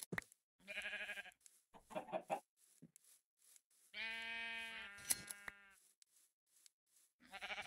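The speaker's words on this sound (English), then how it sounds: "since I got all these sheep around here" Several sheep bleat in the blocky survival game Minecraft, a run of separate nasal calls of varying length with short gaps and small clicks between, close and clear with no talk.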